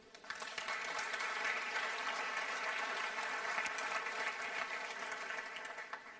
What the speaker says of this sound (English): a round of applause for you for being in this room